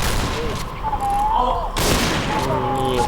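Bursts of video game gunfire crackle in rapid volleys, with a voice talking over the shooting.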